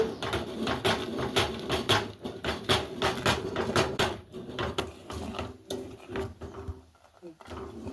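Cooked mung dal (pesara pappu) mashed with a wooden masher in a pot on the stove, giving quick repeated knocking and clacking strokes with a brief pause, under a speaking voice.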